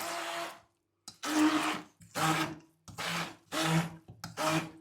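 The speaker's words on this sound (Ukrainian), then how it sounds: "зараз я начинку потрібнюю ось таким погружним блендером" An immersion blender whirs in five short bursts with brief pauses between, a coarse grinding buzz as it chops through a thick meat filling.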